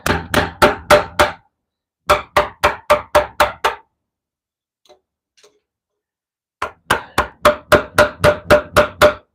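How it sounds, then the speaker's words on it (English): Mallet strikes on a chisel during rough woodcarving, loud close knocks in fast even runs of five or six blows, then a long near-silent pause with faint light taps before another rapid run. "So not a lot more rough chisel work."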